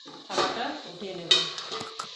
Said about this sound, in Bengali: থালাটা উঠিয়ে নেব।